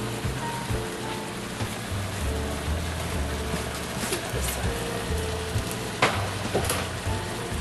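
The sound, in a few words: onions and garlic frying in a pan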